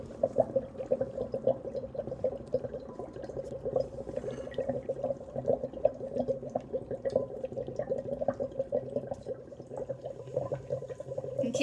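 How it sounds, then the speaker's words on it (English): Dry ice bubbles away in water with a steady, frantic churn of fine gurgling and fizzing that is moderately loud and continuous, with no one talking. "see how it's dissolving into a bunch of frantic little bubbles?"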